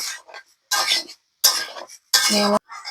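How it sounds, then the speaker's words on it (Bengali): A spatula scrapes and clinks against a pan of mixed vegetables being stir-fried for a shrimp-and-vegetable dish, in four loud, separate bursts of scraping with short silent gaps between them. "ভাজি করার জন্য এভাবে আমি নাড়তে থাকবো সবজিগুলো"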